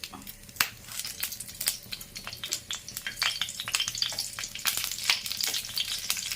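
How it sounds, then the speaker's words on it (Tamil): Oil sizzling and crackling steadily as green chilies fry, with frequent sharp pops and spits throughout, close and fairly loud. "அதனால் எண்ணெய் ஊற்றிக்கிடலாம் அதில் அந்த பச்சை மிளகாவை இப்படி"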